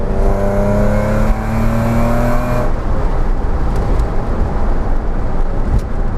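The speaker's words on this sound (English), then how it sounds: "use sort of high revs to accentuate the exhaust note of the engine" A Porsche 911 engine revs hard with a loud, rising exhaust roar that climbs in pitch, then settles into a steady, dense drone.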